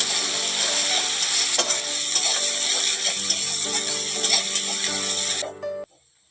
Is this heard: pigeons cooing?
no